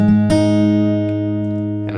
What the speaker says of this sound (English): And the generic picking pattern will sound like this.